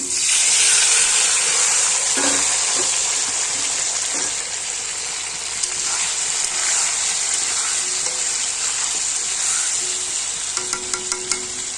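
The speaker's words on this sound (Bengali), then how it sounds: "আলু পেঁয়াজ নুন দিয়ে ভেজে নেবো হালকা" Potatoes and onions fry with salt in a pan for egg curry, giving a loud, continuous sizzle and hiss with occasional stirring clatter and faint scrapes.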